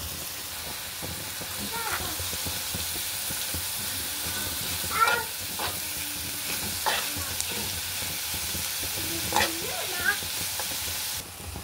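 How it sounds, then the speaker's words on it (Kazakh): Grated beetroot frying in a pan for borscht gives a steady close sizzle, broken by several scraping stirs at irregular intervals. "осында свеклямызды теркадан өткеріп, оны да салып қуырып аламыз"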